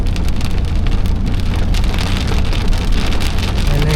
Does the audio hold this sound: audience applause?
no